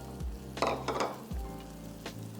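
Chicken fry with eggs being stirred in an iron wok, a spatula scraping and clanking against the metal over a low sizzle, with a couple of brief louder stirring bursts, close and without talk.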